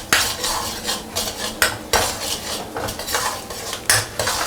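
A metal spatula scrapes and clatters against a wok while minced pork is stir-fried with garlic and ginger, giving repeated close, rhythmic scraping strokes with no one speaking.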